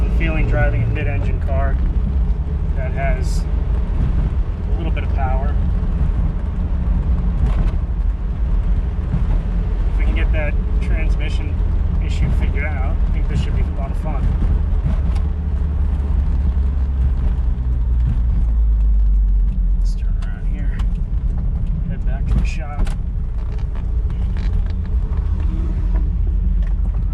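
Turbocharged Toyota MR2 mid-engine car driving on the road, its engine and road noise a steady low rumble throughout, close and constant, with someone talking over it for much of the time.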